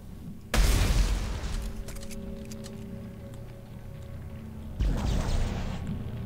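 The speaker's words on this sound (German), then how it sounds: "Das ist wieder eine Bombe" Two heavy booms from a bomb in the video game Dead Space 3, each a sudden loud blast that decays into a rumbling tail, the second arriving about four seconds after the first.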